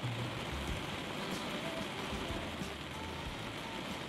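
Rain falling on a car during a drive, a steady broadband hiss with road rumble underneath, constant and moderately quiet throughout with no talking.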